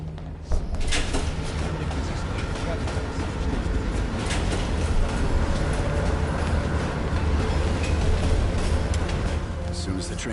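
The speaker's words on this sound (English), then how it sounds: "Train's slowing down." A metro train runs along the track in Call of Duty Black Ops Cold War. It gives a continuous loud rumble with repeated clanking and rattling, and people talk over it.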